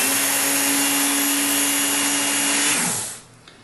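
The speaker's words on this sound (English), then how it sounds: "Turn the machine on and draw the knife through." A Work Sharp Knife & Tool Sharpener runs its abrasive belt while honing a knife, making a loud, steady motor whine and grinding hiss that winds down and cuts out near the end.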